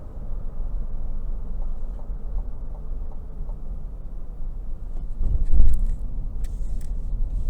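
A 2022 GMC Yukon SLE's 5.3 V8 pulls under acceleration as a steady low interior rumble and road drone, with a brief louder thump near the end.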